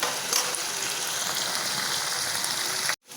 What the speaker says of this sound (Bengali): তো ইচা মাছটা আমি ভাইজা নিমু পেঁয়াজের লগে